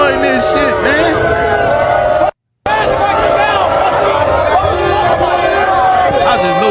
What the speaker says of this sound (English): Donald Trump being lustily booed when he arrived at the venue tonight